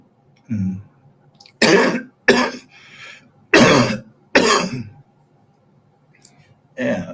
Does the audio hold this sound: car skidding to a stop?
no